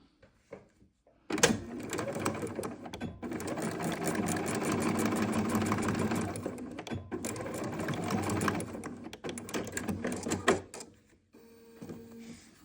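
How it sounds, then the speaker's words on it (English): Sewing machine stitching the short raw ends of hair bow fabric end to end with a quarter-inch seam, a steady run of rapid needle clatter in two long bursts with a brief pause between, close and loud, no talking. "now we are going to sew this end to end, right sides together along the short raw ends with a 1/4 inch seam allowance"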